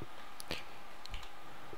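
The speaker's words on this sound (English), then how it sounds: "You have to see how slow I am at typing." A computer keyboard pressed slowly while playing a Skyblock challenge: a couple of sparse, faint clicks, widely spaced, with no one talking.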